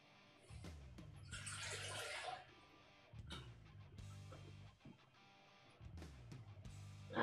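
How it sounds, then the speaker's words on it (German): Water runs from a kitchen tap into a container in bursts, a soft splashing hiss that starts and stops several times among quiet kitchen clatter. "Aber ich fülle mal kurz Wasser ab."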